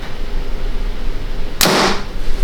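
An arrow is shot from a roughly 75-pound bow, a single sharp whoosh-and-thump burst that stands out near the end against a low, steady background hum.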